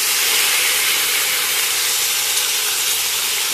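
Onion paste dropped into hot oil with cumin seeds and a bay leaf, a loud, dense, steady hiss of sizzling that holds evenly throughout, close and with no talking.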